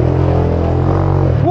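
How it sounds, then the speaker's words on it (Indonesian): A Scomadi scooter engine revs hard while climbing uphill, a loud, close, steady throaty drone that holds constant and then dips briefly near the end. "Ini loh, motor standar, suaranya kayak gini, kompresinya tinggi banget."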